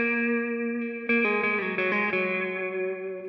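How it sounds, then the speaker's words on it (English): A sustained electric guitar chord through a Vox wah pedal set fully up, a swelling, filtered tone with shifting notes layered with chorus-like shimmer and reverb. "I have the Vox wah all the way up at the top"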